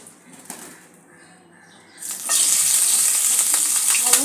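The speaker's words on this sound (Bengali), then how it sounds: "মাছগুলো এক এক করে ভেজে নেব।" Bhetki fish frying in mustard oil in a wok. A faint rustle with small clicks surges after about two seconds into a loud, close, continuous sizzle that holds steady to the end.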